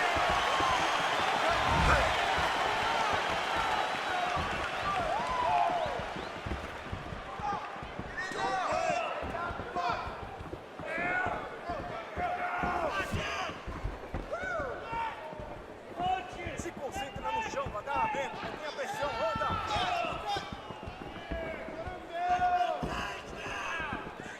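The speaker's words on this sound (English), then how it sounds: "You hear this crowd just eating out of his hand, oohing and on every time he advances." Crowd noise in a UFC video game simulation of Alex Pereira vs Israel Adesanya, an arena crowd murmuring and oohing in waves under thuds and action sounds, moderately loud and steady.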